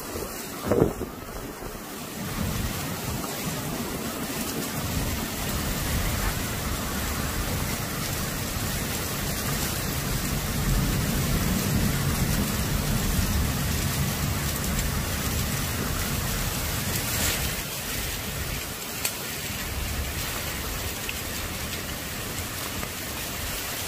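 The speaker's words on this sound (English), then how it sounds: "the rain is legitimately coming down sideways" Heavy wind-driven rain pours during a derecho storm, a loud continuous wash of rain and gusting wind buffeting the microphone, with a sharp knock near the start.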